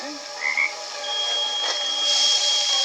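Frog croaking in a TV series scene, a couple of short rising croaks over a faint electronic hum and a thin steady tone, with no talking.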